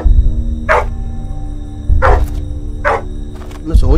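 A dog in the horror game Blood Field lets out four short, loud barks spaced about a second apart, close by over a steady humming background, with low thumps between them.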